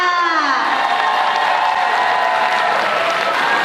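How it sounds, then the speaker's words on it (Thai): An audience applauds a film trailer at a GDH 2025 lineup event, dense sustained clapping and cheering from a large crowd, loud and continuous, with some voices calling out over the clapping. "ขอเสียงปรบมือนะะกับเทรลเลอร์วิมานหนังค่ะ"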